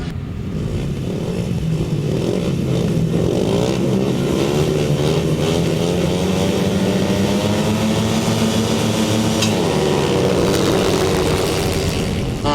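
A grasstrack racing motorcycle engine, number 97, runs with a misfire, its loud, rough drone rising and falling steadily as it passes close by outdoors.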